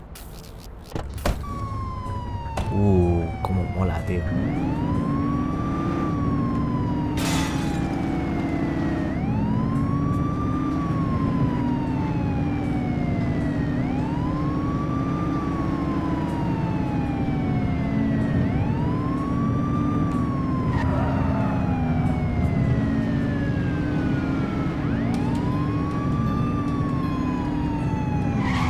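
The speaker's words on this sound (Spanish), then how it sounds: "enciende las luces y la sirena para advertir al resto de los vehículos de su presencia que despejen el camino" A police car siren in the game The Precinct wails loudly and continuously in a repeating rising and falling pattern over engine rumble, with a brief spoken remark near the start.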